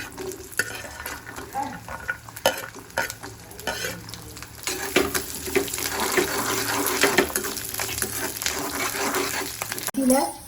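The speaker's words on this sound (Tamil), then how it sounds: "கடுகு வெடிக்கட்டும்" Mustard seeds crackle and spit in hot oil with a busy, uneven sizzle that grows denser and louder midway, with occasional clatters of utensils.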